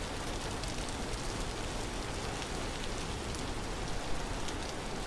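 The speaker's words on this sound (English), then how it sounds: "The rain makes its targeting noise too quiet." Rain pours steadily in the video game Vintage Story, an even, dense hiss of drops on surfaces that continues without a break and without any voices.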